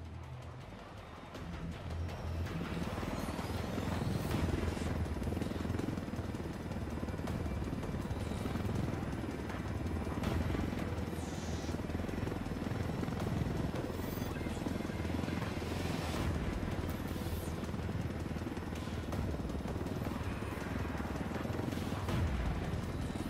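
Helicopter from the game Ghost Recon Wildlands flying steadily, a loud continuous rotor thrum and engine roar that holds for the whole stretch with occasional crackling bursts on top.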